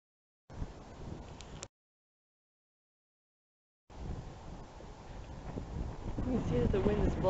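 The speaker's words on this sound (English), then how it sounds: "You can see that the wind is blowing, coming up on the little forest they have here." Strong wind gusting across open ground at Camp Marmal, buffeting the microphone as rough broadband rumble and bluster that cuts out and returns louder, building steadily toward the end.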